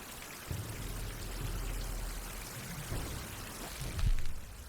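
Rain falls steadily in a video game survival setting, a soft continuous hiss and patter with low rumbles and a few heavier thumps, fairly faint and without talk.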